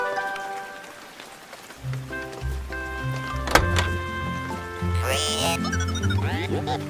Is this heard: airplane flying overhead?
no